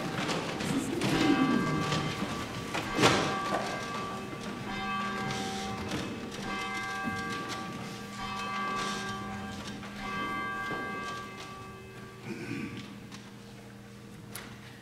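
A church bell rings at the start of a worship service, several resonant strokes with long ringing tails spaced a few seconds apart, heard inside the sanctuary amid faint room noise.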